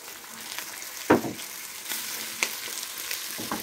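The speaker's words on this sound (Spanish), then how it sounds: "ahora sí le vamos a agregar el jitomatito" Chopped tomato hits a hot pan of already fried onion and chilies and sizzles continuously, with a few louder crackles and stirring clatters, close and alone without talk.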